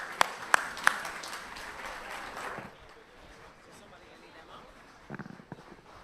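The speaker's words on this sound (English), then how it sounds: "another big round of applause for the Honorable Mia Amor Motley, the Prime Minister of Barbados" An audience at the Carifesta festival applauds Barbados Prime Minister Mia Amor Mottley: a moderate wash of clapping with a few sharp individual claps that fades away after a couple of seconds, then a brief scatter of claps returns near the end.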